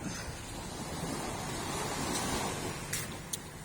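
Steady broadband wash of sea waves at a beach on the Thai coast, with wind buffeting the microphone throughout and a couple of faint brief clicks near the end; no one speaks.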